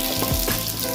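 Cumin seeds dropped into hot oil for tempering a green mixed-vegetable dish, giving a dense, close crackling sizzle that fills the entire short moment without any voices.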